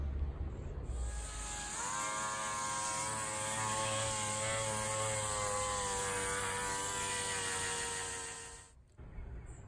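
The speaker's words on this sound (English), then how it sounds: "we have a air sander, pneumatic air sander, a DA, dual action, and 36 grit sandpaper" A pneumatic dual action air sander fitted with 36 grit sandpaper, smoothing a Scamp trailer door, runs as a steady loud whine with strong tonal harmonics that hold for about eight seconds, then cut off abruptly near the end.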